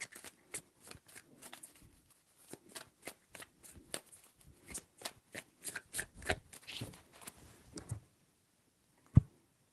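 Brisk riffling and snapping of tarot cards being shuffled in several bursts, close and fairly quiet, ending with a single sharp tap.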